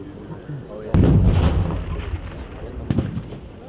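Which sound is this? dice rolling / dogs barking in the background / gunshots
gunshots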